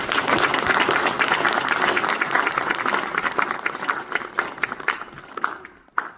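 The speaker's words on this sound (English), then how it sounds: "So let's give one big round of applause." An audience applauds after a speech contest, a loud, full round of clapping that holds steady and then tapers to a few scattered claps near the end.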